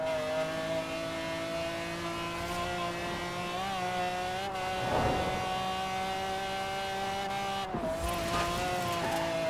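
A loud, steady car engine drone from the video game Forza Horizon 4, with strong tonal harmonics, dipping briefly as the revs shift, and a short screech midway.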